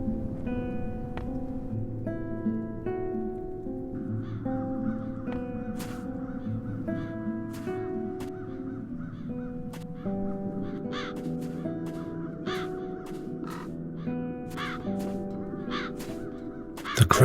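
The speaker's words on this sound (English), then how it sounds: "Now those ghastly crows only need to touch it." Ghastly crows caw repeatedly in the point-and-click adventure game The Dark Eye: Chains of Satinav, sharp harsh calls scattered over a steady musical background, several birds overlapping, with a louder burst at the very end.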